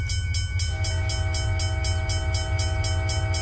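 A train passes the Duckwood Road railroad crossing in Train Simulator 2022, a heavy low rumble with a steady rhythmic clatter and sustained tonal warning sounds, loud and continuous with no voices.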